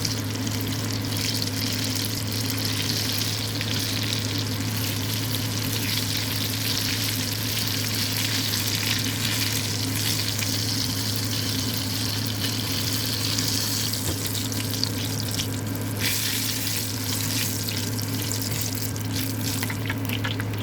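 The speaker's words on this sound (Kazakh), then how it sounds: "Енді тұшпараларымыздың барлығы қызып тұрған майға салып, кезек-кезек екі бетін аударып отырып" Dumplings fry in a pan of hot oil, being turned side to side until crisp, giving a loud, steady, unbroken sizzle and crackle throughout with no talking.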